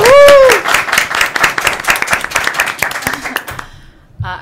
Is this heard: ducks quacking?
no